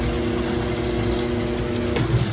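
A locked-up pump on a Pitco fryer's filter system strains to run: a steady mechanical hum with whining tonal bands, continuous and close, with a sharp click near the end as it fails and trips its breaker.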